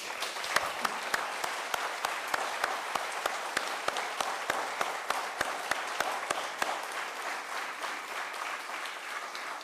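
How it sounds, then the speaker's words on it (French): Audience applause at a French testimonial screening event, dense sustained clapping from a crowd with a few sharp individual claps standing out, steady throughout before tapering slightly. "Je vous propose de l'applaudir."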